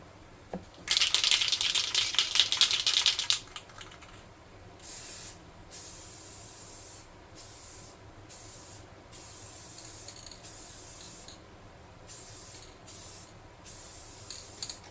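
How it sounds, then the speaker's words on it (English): Clear enamel is sprayed from a can onto a miniature budget wyvern figure in a burst of close hissing lasting a few seconds, followed by a series of shorter, quieter spray bursts in an irregular rhythm. "I'll show you guys a secret about clear coating."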